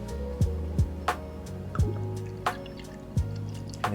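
Porter beer pours into a porter glass, with soft liquid gurgling and a series of distinct glugs and drips at irregular intervals, close and fairly quiet.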